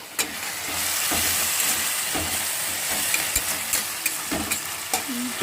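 Potato curry frying in a pan while chapatis roast beside it: a loud, steady sizzle and hiss with scraping stirring strokes and light clinks scattered throughout, close up, with no talking.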